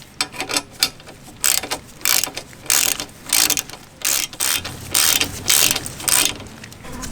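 Ratchet wrench clicking in repeated bursts while tightening the bolts of a Hepco & Becker engine guard on a Suzuki V-Strom 800 motorcycle; close, loud, rhythmic ratcheting strokes separated by short pauses, with no talking.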